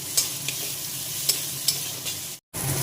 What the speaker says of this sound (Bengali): তো সবকিছু প্রায় ভাজা ভাজা হয়ে এসছে